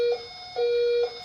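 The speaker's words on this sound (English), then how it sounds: "The first tone you will hear is the duck and cover alarm." A duck and cover alarm tone played as part of a select tone system test, a steady electronic tone in two repeating pulses with brief gaps, loud and alone.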